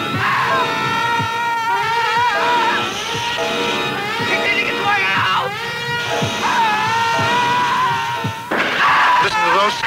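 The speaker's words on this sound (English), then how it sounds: "Listen to those screams, they're eating him alive." Loud, continuous screams and yells of people being eaten alive by flesh eaters in the horror film Manos: The Hands of Fate, layered with shouting voices and occasional thuds.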